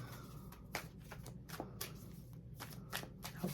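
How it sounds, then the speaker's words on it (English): Tarot cards are shuffled by hand close up, a series of quick riffling bursts with brief pauses between them. "let me give these cards a shuffle"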